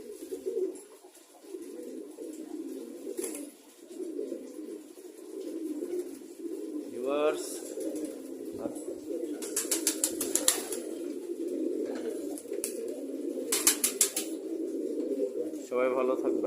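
Pigeons coo in a steady low murmuring chorus, close and continuous, with occasional sharper chirps and wing flutters mixed in.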